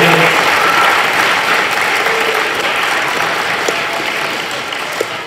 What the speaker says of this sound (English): if we give one more big round of applause to Lieutenant Colonel David Haynes